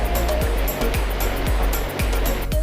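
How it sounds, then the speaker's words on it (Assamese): A fast, swollen river rushes with a deep, continuous roar like surf, loud and close throughout, in a tiger reserve in Arunachal Pradesh. "পানী ফুল স্পীডত বৈ আছে, একেবাৰে আচৰিত। চাওক কিমান স্পীড, একদম সাগৰৰ নিচিনা দেখি।"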